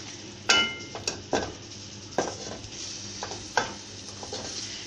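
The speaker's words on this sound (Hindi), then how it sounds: "अब इसमें जो चिकन के रेशे करके रखे थे वो जाएगा, इसको डाल के अच्छे से मिक्स।" Shredded chicken being stirred into a white sauce in a pan produces a series of sharp spoon scrapes and clinks against the pan at an uneven rhythm over a soft sizzle, close and fairly quiet.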